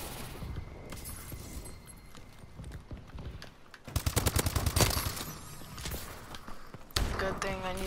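Video game gunfire, heard as a fast, loud run of repeated shots in the middle of busy game noise, with a voice talking nearby.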